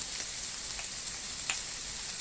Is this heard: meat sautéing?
yes